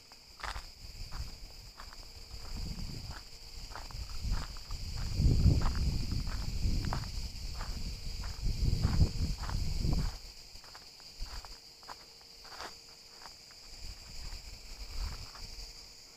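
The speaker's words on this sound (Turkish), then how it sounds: "Cırcır böcekleri." Crickets chirp steadily in a village in the evening, a continuous high trill with rhythmic pulses, while footsteps or rustling rise and fall nearby and no one talks.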